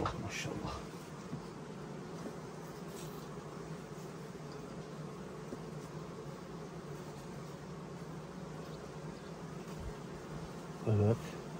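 Honeybees buzz as a continuous dense hum throughout a beehive honey harvest, steady and fairly quiet, with a brief louder knock near the end.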